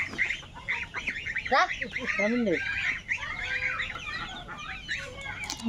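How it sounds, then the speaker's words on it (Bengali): Young goslings honk and call in a busy, overlapping chorus of short bright cries close by, with other fowl sounds mixed in on a duck-keeping farm. "রাজা হাঁসের বাচ্চা"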